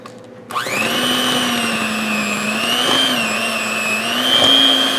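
An electric mixer whirs steadily through cream cheese, whipped topping and keto monkfruit sugar for a no-bake raspberry cheesecake, starting abruptly and holding a strong, even motor whine with slight pitch wavers as it works the mixture.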